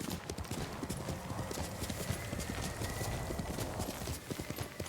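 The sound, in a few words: horse hooves and whinny in video game Ghost of Tsushima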